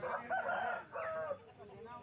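A rooster of about 3.5 kilos and 1.5 years old crows at a village chicken market in Jhargram, West Bengal. Two loud, drawn-out calls come up close, with faint market noise behind them.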